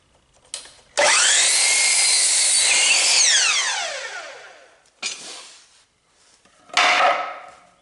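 Wood being cut with a power saw for I-beam sawhorse legs: a loud whining cut of about three seconds that winds down, then two shorter bursts, close up and with no voices.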